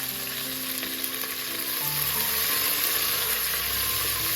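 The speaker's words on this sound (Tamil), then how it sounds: "வெங்காயம் நல்லா ஃப்ரை ஆகட்டுங்க." Chopped onions for a vegetable biryani fry in hot oil, giving a steady, close, hissing sizzle that carries on evenly with no talking.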